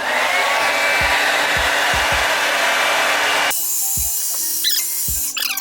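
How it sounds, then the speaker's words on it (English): A hair dryer roars steadily at close range, then cuts off abruptly, leaving quieter handling noises and a few light clicks. "we gonna take the blow dryer and dry the hair."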